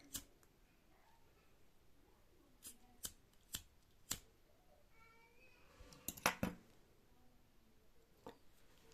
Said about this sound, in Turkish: Hemen şu iplerimi temizleyeyim. Şöyle makasla.